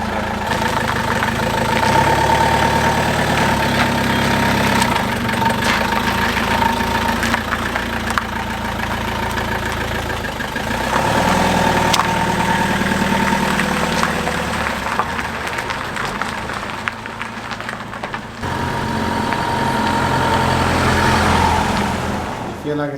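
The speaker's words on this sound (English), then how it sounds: "oh my gosh, we have a running vehicle" A van engine, newly back from a turbo repair, idles steadily with a continuous mid-pitched drone and a faint whine that holds for the whole stretch, close and fairly loud.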